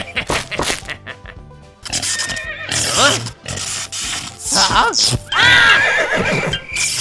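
Several horses neigh and whinny loudly over a noisy barn background on a suburban farm, calls overlapping in bursts with snorts and shuffling between them.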